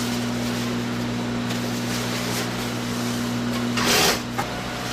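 An electric sewing machine, stitching fabric cut from recycled illegal street banners, runs with a steady close mechanical hum, then a brief louder burst of whirring near the end.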